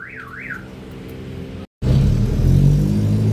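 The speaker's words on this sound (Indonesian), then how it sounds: "Wah, ada alarmnya nih." A car alarm wails in rising and falling sweeps on a 1994 Suzuki Katana, then cuts out briefly before its engine rumbles and revs loudly nearby.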